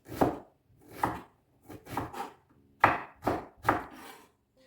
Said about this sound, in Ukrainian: Цибульку нарізали.